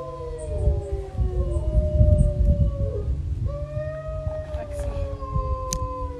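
Several dogs howl together in response to a passing siren, the long wavering howls overlapping and sliding in pitch, loud and close over a constant low rumble.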